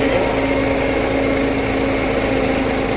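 A tractor engine drones steadily and loudly close by, an even mechanical hum without pauses or voices.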